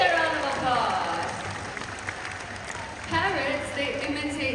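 An audience at a bird show claps in a round of applause, a steady patter of many hands heard beneath a presenter talking over it.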